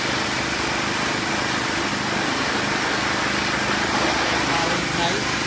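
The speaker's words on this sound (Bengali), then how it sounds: "ফাইনাল ওয়াশটা দিয়ে নিচ্ছি আমরা।" A Suzuki Gixxer motorbike gets its final wash at a cleaning service, a loud, unbroken hiss of spraying water that runs the whole time.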